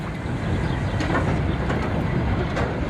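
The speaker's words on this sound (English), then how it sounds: "heading for Linnashaw Moss and Kearsley Power Station, with 10 16-ton loaded coal wagons in tow" A train hauls ten loaded 16-ton coal wagons along colliery rails toward a power station, making a continuous loud rumbling roll with faint rhythmic wheel clatter, close by and steady.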